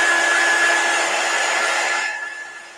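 A hair dryer blows steadily at close range, drying chalk paste painted on a 14-inch round door hanger, then eases off and quiets near the end.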